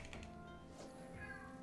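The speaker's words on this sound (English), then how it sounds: "I heard one meow." A single cat meow at moderate distance, short and fairly faint, set against a soft tapping background.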